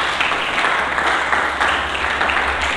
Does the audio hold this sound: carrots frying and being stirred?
no